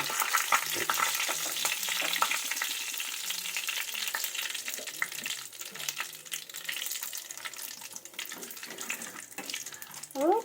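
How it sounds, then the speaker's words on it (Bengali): Black cumin seeds and bay leaves fry in hot oil for a bitter gourd dish, giving a steady, fairly close crackling sizzle that runs throughout with no talking. "এই যে কালো জিরা আর তেজপাতা ফোড়নে দিদি"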